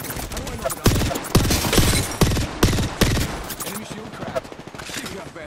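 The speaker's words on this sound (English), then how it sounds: "Firing on our foes." Gunfire in the video game Apex Legends, with sharp repeated shots and bursts in uneven rhythm mixed with game voice lines and other effects.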